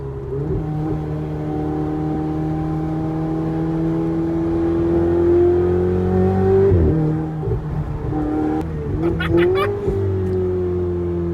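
A Ferrari 488 Spider engine hums steadily and then climbs into a rising rev near the close, with a few sharp clicks and a short burst of acceleration.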